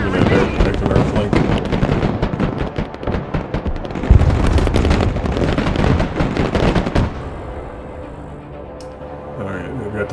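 Artillery barrages for indirect fire support in the Broken Arrow video game: loud, dense, overlapping booms and crackling blasts rumble for about seven seconds, then fade into a quieter, distant rumble, with voices underneath.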